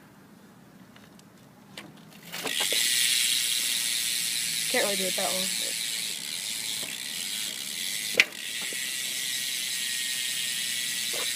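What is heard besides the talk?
stock BMX bike hub clicking during sound check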